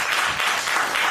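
A press conference audience at a Ghana High Commission event claps, a dense, steady burst of applause filling the room, loud and close.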